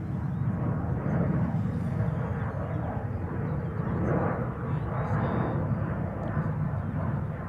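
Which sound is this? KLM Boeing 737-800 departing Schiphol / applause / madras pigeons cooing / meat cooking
KLM Boeing 737-800 departing Schiphol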